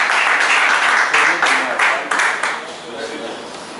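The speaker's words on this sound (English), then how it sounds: "a round of applause for Mr." Applause at a Festac marathon press conference for a guest from Pakurudi: loud clapping from a gathered audience, pulsing in uneven swells before fading toward the end, with some voices mixed in.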